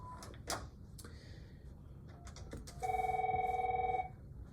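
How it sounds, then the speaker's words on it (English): A telephone rings once with a bright warbling electronic trill lasting about a second, close by, amid faint clicks and rustling. "so that's when the call is ringing."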